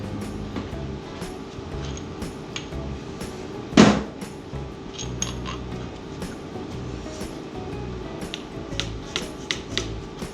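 A bolt is tapped to pop an engine oil pump loose during a farm truck engine teardown. One loud, sharp metallic knock rings out, followed by faint scattered clicks and taps over a low hum.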